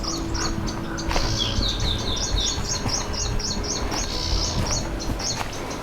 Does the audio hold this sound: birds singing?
yes